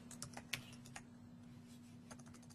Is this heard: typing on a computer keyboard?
yes